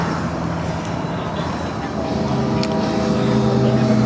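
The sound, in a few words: Harley Davidson Softail Standard FXSTI motorcycle exhaust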